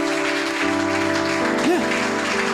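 A church congregation claps and acclaims the Lord during a sermon, applause washing under sustained organ-like music while a voice speaks over it.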